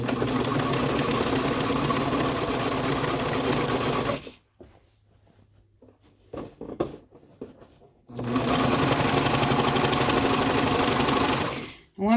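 A cover stitch sewing machine runs at steady speed stitching shorts, a fast even mechanical whir for several seconds, stopping for a quiet pause with small handling noises, then starting again in another long run.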